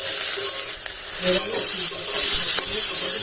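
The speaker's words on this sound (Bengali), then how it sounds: "শাক ভাজা তো হয়েই গেল" Leafy greens fried in a wok give a continuous close hiss and sizzle, overlaid with soft scraping and stirring strokes, alone without speech.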